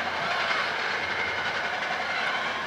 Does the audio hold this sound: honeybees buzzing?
no